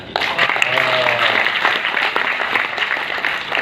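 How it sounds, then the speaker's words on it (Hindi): A live audience at a Hindi comedy and satire show breaks into dense, sustained applause that lasts throughout, loud and near, with a voice briefly heard over the clapping at the start. "अच्छी बात पर अच्छी ताली बजनी चाहिए"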